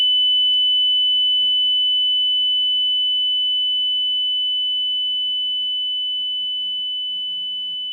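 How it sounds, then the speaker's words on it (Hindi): The buzzer of a Cook's pole climbing apparatus in a drug evaluation test sounds as one continuous steady high tone, alone and clear, with faint low murmurs beneath. "बजर दबाते हैं।"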